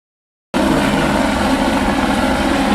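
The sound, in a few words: helicopter flying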